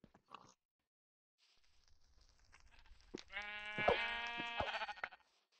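A Minecraft sheep bleats clearly in a short, wavering call, preceded by soft thuds and scuffs, with no talk.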